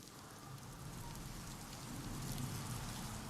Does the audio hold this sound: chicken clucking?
no